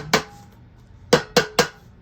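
A can opener tool used as a hammer to tap a can lid shut, one sharp metallic tap followed after a pause by three evenly spaced close taps.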